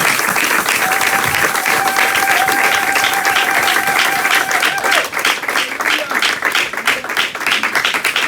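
A church congregation applauding during a Sunday service, dense sustained clapping filling the room from many hands, loud and close, with a held tone ringing above it before the applause thins into scattered claps.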